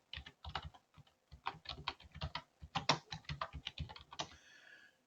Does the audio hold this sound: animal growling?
no